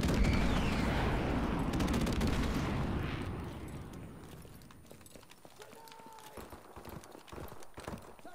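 Friendly airstrike in Call of Duty: a loud, dense barrage of rumbling blasts and rapid gunfire fills the first three seconds, then eases into scattered shots and distant pops.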